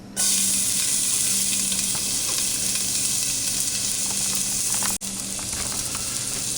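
Garlic and onions sizzle loudly in a pan as the base for cream of mushroom soup, a dense close frying hiss with occasional stirring scrapes and a brief break near the end.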